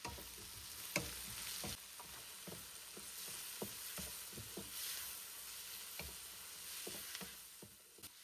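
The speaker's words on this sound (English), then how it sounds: "Add chopped garlic. Mix nicely. Medium heat." Chopped garlic stir-fried in a pan over medium heat: a steady close sizzle with frequent clicks and scrapes of a utensil stirring and tapping the pan.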